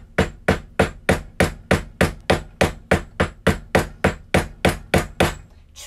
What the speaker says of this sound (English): Try to hold it still when you're hammering